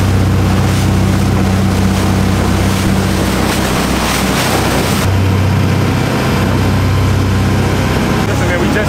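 A dive boat motoring out to a snorkeling site: a loud, steady, close engine drone with rushing wind and water noise throughout.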